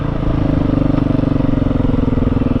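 A Beta 430 supermoto motorcycle on a twisty road, its engine droning steadily and close with a pulsing rhythm throughout, loud and continuous with no voices.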